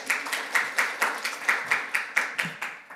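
Clapping at a morning forum on drug development, as a panel chair is introduced in a conference hall: a quick, even run of distinct claps, fairly soft, like a small group applauding.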